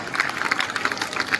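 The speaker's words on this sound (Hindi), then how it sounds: "आपसे जोरदार तालियां चाहता हूं" An audience applauds in honour of Savitribai Phule, a dense and steady wash of clapping that runs the whole stretch at fairly close range.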